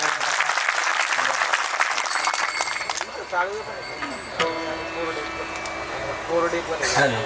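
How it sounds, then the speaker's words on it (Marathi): An audience claps loudly and steadily at a gathering, the applause fading after a few seconds into room noise with faint scattered sounds and voices. "वा एकदा टाळी वाजवा बरं आहे सगळ्यांना."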